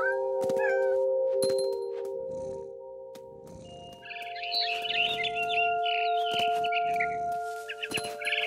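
Cat meowing in the video game What Remains of Edith Finch, several short mews over steady tonal game music, with a cluster of brighter cries in the second half.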